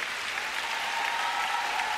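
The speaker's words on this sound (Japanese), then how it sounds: "スタンディングオベーションで拍手を送るお客さんの姿を見られます。" Audience applause after a pair figure skating exhibition performance at an ice show, a steady, dense wash of clapping from a large arena crowd that holds evenly throughout.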